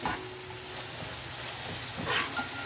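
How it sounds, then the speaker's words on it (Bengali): Two chopped medium tomatoes fry over a high flame, giving a steady close sizzling hiss that swells briefly near the end, with no talking. "ফ্লেমটাকে হাইতে রাখবো, আমি হাইতে রেখে এটাকে ভেজে নেব।"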